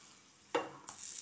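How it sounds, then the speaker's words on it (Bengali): A Gandharaj potato paratha is fried in oil: two quick, close sizzling bursts flare up over a quiet background, the second trailing into a soft, continuing crackle. "তেল দিয়ে ভেজে দিলে পরোটা হয়ে যাবে।"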